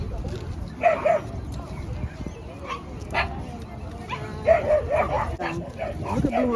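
A poodle lets out several short yips and high whimpers in a home setting, scattered across the moment, with people talking faintly in the background.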